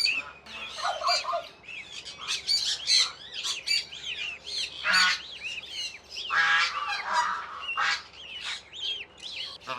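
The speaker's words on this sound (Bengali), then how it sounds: "এই যে একটা বড় রাজহাঁস" A large goose honks loudly in repeated harsh calls while ducklings chatter and peep around it during a vaccination session, a busy overlapping flurry of close bird voices with no talking.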